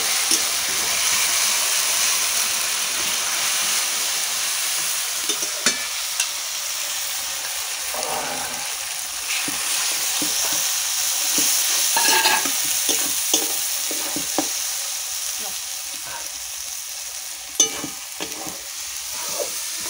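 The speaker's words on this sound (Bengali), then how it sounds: "মশলা একটু সুন্দর করে ভেজে নিই।" Turmeric and chilli powder masala fries for a Bengali-style duck curry, with a loud, constant hiss of hot oil running throughout. Occasional scraping stirs and sharp taps of a spoon against the pan break through the hiss.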